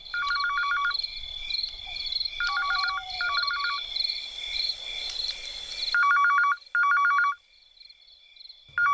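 A telephone rings in short repeated bursts of trilling double rings, loud and close, with a steady high hum and crickets behind and pauses between rings.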